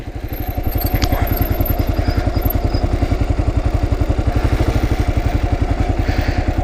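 Kawasaki KLR motorcycle ridden slowly off-road, its single-cylinder engine thumping in a steady, fast rhythm at low speed with slight throttle swells, loud and close, with no talking.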